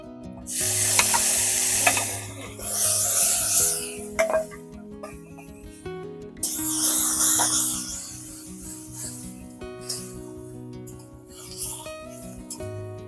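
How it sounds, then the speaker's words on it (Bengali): Onion paste fries in a kadai over a tempering of dried red chillies and whole cumin. A loud, close sizzle comes in waves as a spatula scrapes and stirs it around the pan, with no voices. "পেঁয়াজ বাটাটা খুব ভালো করে একটু হালকা ভেজে নেব"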